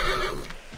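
In the video game Assassin's Creed 3, a horse called with a whistle lets out one short, loud neigh close by.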